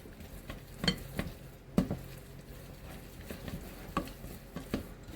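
No-bake cookie ingredients being stirred together in a bowl, with irregular scraping and clinking spoon strikes, close and moderately loud without voices.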